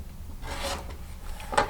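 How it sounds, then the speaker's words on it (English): Quilt fabric is trimmed along a ruler on a cutting mat, giving a soft, steady scraping rasp with a couple of stronger strokes, close and alone. "move this ruler to the size that you need and trim the other 2 sides"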